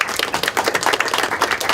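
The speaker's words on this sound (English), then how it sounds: "So can we give a big round of applause?" A short round of applause at a civic event welcoming the Mayor of Sandwell in Tipton, a close cluster of brisk, uneven hand claps from a small crowd.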